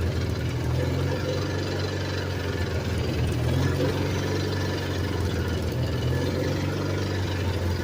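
A John Deere 212 garden tractor engine runs at a steady idle, a continuous low throbbing hum with slight knocking and vibration, close and unbroken.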